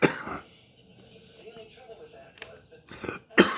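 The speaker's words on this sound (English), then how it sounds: "I did have a little bit of a coughing fit." A man coughs and clears his throat in short harsh bursts, one at the start and two more near the end, with quiet room tone between them.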